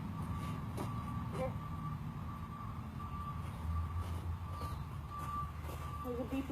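A truck's reversing alarm beeps in steady repeated pulses, moderately far off, over a low rumbling outdoor background with faint voices.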